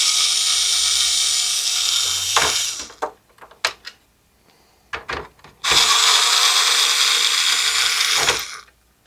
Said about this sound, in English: Next, we are going to take our Phillips head screwdriver and remove these two bolts.